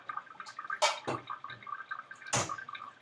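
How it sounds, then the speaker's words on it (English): Water drains and drips off a raw, washed chicken drumstick set at an angle in a bowl, making faint trickles and a few louder splashy bursts close by, with no talking. "I'm gonna put it in an angle so as to drain the rest of the water that is sitting there on the chicken"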